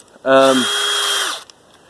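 A power drill whirs up sharply and runs steadily for about a second before stopping, loud and close, during siding installation.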